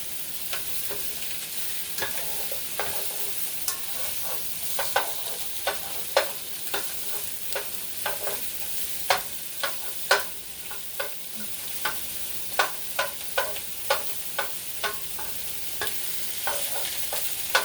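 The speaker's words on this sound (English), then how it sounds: "Gonna stir my onions around." Onions frying in a pan alongside bratwursts as a slotted spoon stirs them, bright continuous sizzle with regular scraping clicks growing more frequent through the second half, no talk.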